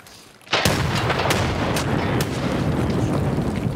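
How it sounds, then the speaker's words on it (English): Grenade explosion in the video game Escape from Tarkov, a sudden loud blast followed by rumbling roar and a few sharp gunshot cracks over the continuing din. "Throwing a nade over there."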